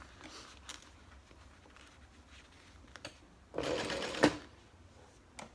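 A sewing machine stitches through a vinyl zipper pouch being made into a handbag: one short, fairly loud burst of running stitches lasting under a second, set against quiet room tone.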